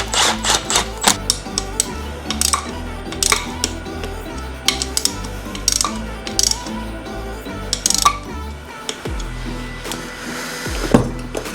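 An impact gun fires in short repeated bursts, clattering rapidly as it runs bolts into the engine cover of a Yamaha YFZ450R ATV during a top-end rebuild. The bursts are loud and close, separated by brief pauses.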